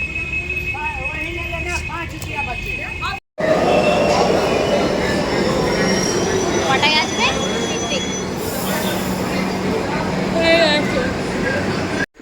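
Kolkata metro train running with a crowded carriage, a steady loud rumble of wheels and motor broken by a short pause, with brief squeals and people talking over the noise throughout.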